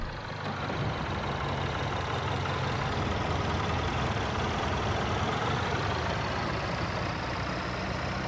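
A van with dual barrel exhaust idles in Motel Manager Simulator, a video game, as a low, steady engine rumble that holds even and unbroken throughout, fairly faint and with no speech.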